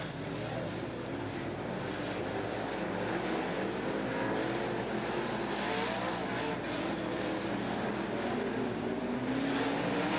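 Race cars circling the Southern Oregon Speedway oval, a continuous engine roar with rising and falling passes, fairly distant and steady throughout.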